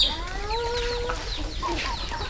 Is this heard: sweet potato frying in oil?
no